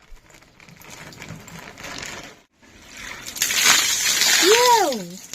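Water thrown out of a container at a village house in the rain splashes loudly onto muddy ground in a single heavy slosh and spatter, after quieter background sounds.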